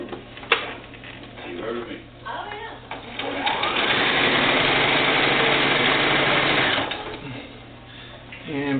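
A sewing machine stitches elastic onto doll bloomers: close, steady rapid whirring and clatter that runs for several seconds between quieter stretches with start-stop ticks, while a person talks over parts of it.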